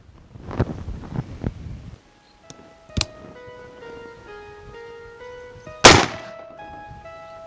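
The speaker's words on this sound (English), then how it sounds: "Shooting a, say it's an Ebonite NVD ball this time." Rifle shots from an AR-15 in 300 Blackout strike a 15-pound Ebonite NVD bowling ball outdoors: a few sharp cracks, the loudest near the end, under light wind noise with faint tonal ringing between.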